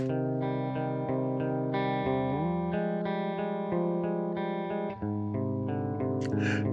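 A distorted electric guitar plays steadily through a loud rock song, its gritty chords sustained and shifting with the music.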